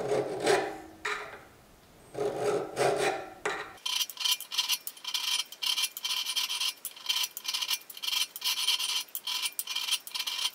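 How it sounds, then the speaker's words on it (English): A smooth tooth file rasps across the flats of a steel knife blade, a close, steady series of short scraping strokes in a quick even rhythm, after a few slower rubbing passes at the start. "I'll probably go over the flats with a smoother tooth file real fast"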